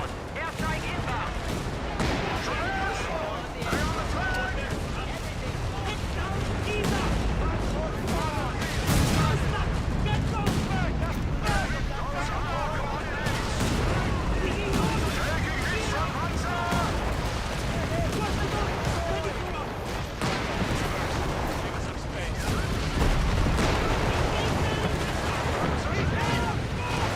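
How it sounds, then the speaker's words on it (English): An airstrike in a combat video game brings dense, continuous gunfire and rolling explosions, loud and chaotic throughout, with voices talking over the battle. "Airstrike inbound."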